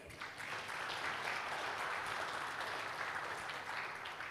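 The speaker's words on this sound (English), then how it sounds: "Let us give a big round of applause to begin today's event in good spirits" Steady audience applause fills a seminar hall on Indonesia's aerospace industry, a dense, even wash of many hands clapping together, moderately loud and sustained throughout without a pause.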